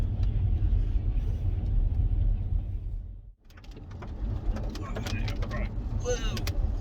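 A Jaguar XK driving on a Yorkshire road, a loud steady low rumble of engine and road noise from inside the cabin that briefly dips mid-way, then resumes with some higher clicks and rattles.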